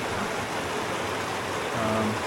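Buck Creek on the High Sierra Trail rushes steadily over rocks, a dense continuous wash of flowing water close by with no pauses.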